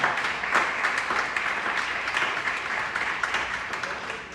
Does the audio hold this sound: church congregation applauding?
yes